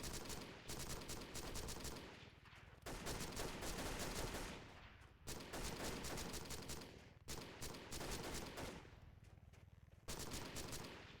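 Automatic gunfire in the PC shooter Delta Force Xtreme 2 comes in long sustained bursts of rapid shots with brief gaps between, fairly quiet in the mix, no talking.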